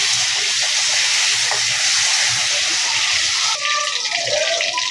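Potatoes fry in a pan, a loud, dense, continuous hiss of sizzling oil filling the stretch close up, with a slight shift in texture near the end and no talking.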